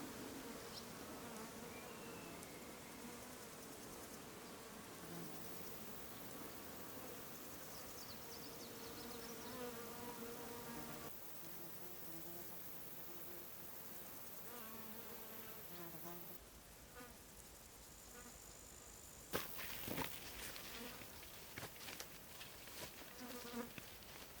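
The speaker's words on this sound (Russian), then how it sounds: "И пчелы с них берут мед." A dense, continuous buzz of many bees close by around sweet clover flowers, droning steadily with a few louder rustles and bumps near the end.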